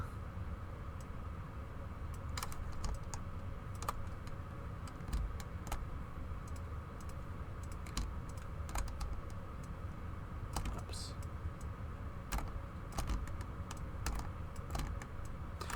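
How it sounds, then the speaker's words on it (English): Sporadic typing on a computer keyboard during a drawing session, scattered clicks and key taps over a low, steady background hum. "you can hear my keyboard going away"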